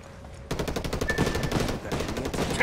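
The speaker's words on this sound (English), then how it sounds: "Taking heavy fire." Heavy automatic gunfire from a Ghost Recon Wildlands firefight at a lithium mine, a loud, dense rattle of rapid shots starting abruptly and continuing without pause.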